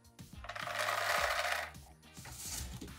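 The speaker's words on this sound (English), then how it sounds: "I'm gonna go ahead and add my beans." Dried beans pour into a homemade paper shaker instrument, a dense rattling cascade swelling loud and close, briefly easing, then surging again, with no talk.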